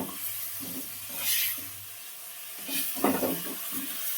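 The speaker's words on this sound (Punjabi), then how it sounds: "ਉਹਨੂੰ 2 ਮਿੰਟ ਭੁੱਜ ਲੈਣ ਜਦ ਤੱਕ ਮਸਾਲਾ ਆਪਣਾ ਤੇਲ ਨਹੀਂ ਛੱਡ ਦਿੰਦਾ" Tomato paste frying in oil with garlic-ginger masala for rajma, a low steady sizzle with a few stirring scrapes and clinks, close but fairly quiet.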